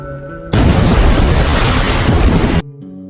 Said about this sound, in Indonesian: Lisung pun keluar dan bom pun meledak.